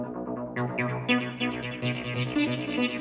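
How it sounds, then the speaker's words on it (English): A squelchy acid bassline from a TD3 synth with the 303 sound bubbles along in short repeating notes with rising, resonant sweeps, played alone at moderate volume. "Next up, we've got the TD3 for the 303 acid sound."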